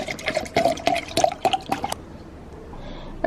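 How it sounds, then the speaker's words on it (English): Water from a tap runs into a cup in a home, with a splashy, gurgling pour that lasts about two seconds, then stops abruptly, leaving quiet room tone. "I'm gonna fill up my cup."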